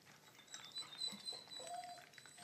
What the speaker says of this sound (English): Rayne is whining in the background, wants to come in.